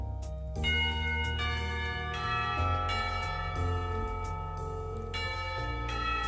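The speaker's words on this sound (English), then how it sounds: "Somewhere, the school bell rings, the last call of the day." A school bell in a visual novel game rings out in sustained, resonant tolls over soft background music, the strikes overlapping with long ringing decay.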